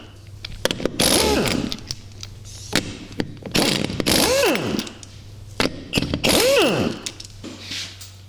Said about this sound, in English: Use a 3/4 inch impact gun to take the wheel off.